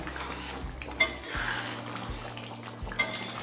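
A spoon stirs garam masala powder into a pot of green jackfruit and chicken curry, giving a few soft scraping stirs and a couple of sharper clinks against the pot, close and fairly quiet.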